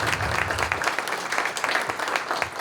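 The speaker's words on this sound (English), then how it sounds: "Let's give her a quick round of applause" An audience at the NFTE New England Youth Entrepreneurship Challenge 2025 gives a quick round of applause, a dense, steady wash of clapping throughout.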